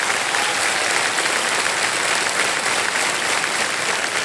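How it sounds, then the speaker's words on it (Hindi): A KBC studio audience applauds a sari-clad Fastest Finger First contestant, with loud, dense, unbroken clapping filling the whole stretch at an even level. "तालियां बज जाए इनके लिए।"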